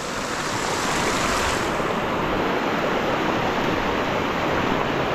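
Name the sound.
rushing river water waves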